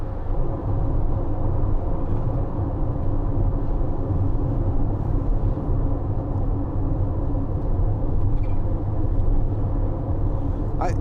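Steady low engine drone and road rumble inside a 2019 Citroen Relay 2.2 BlueHDi 35 Enterprise L2 H2 van cruising on a motorway, continuous and even throughout with no talk.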